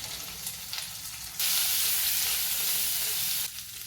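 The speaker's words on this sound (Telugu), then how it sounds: "ఈ ఉల్లిపాయలు ట్రాన్స్పరెంట్ అయ్యే వరకు వేయించుకుందాం" Onion and green chilli pieces frying in oil for a red lentil and cauliflower curry give a close, bright sizzle that surges loudly as they hit the pan, then cuts back to a softer background with a few light stirs.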